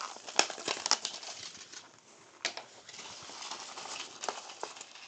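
Paper seed packets shuffled and mixed together by hand, giving a dry crinkling and rustling with a few sharper flicks, close up and fairly quiet, with no talk.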